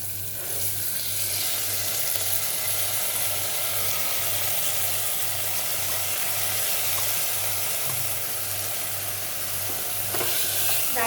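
Onion and dal sautéing in hot oil in a pan for a Maharashtrian dal, a steady close sizzle with faint stirring scrapes running continuously throughout, no talking.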